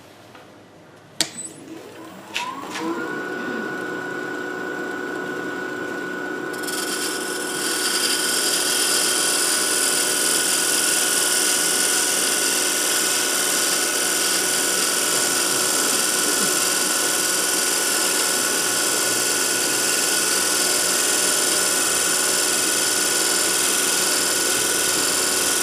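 A lathe spins steadily through a woodturning job while a D-Way tool cuts a 3/16 inch bead for a decorative wall button. A few clicks come first, then a constant, loud machine hum and cutting whine that swells and holds throughout.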